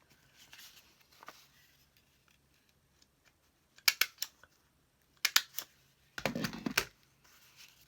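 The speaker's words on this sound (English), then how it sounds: "What I'm going to do is just staple these little pieces together." Small pieces of paper being stapled together for a papercraft notepad, with a few sharp clicks and crunches in short bursts between quiet gaps and no voices.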